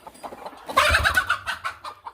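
A broody desi village hen clucks in a burst of several rapid, close calls, then trails off into softer intermittent clucks.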